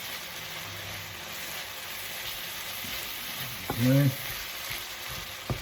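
Garam masala spice mix dry frying in a pan, a steady soft crackling sizzle that runs throughout with a brief spoken word near the end.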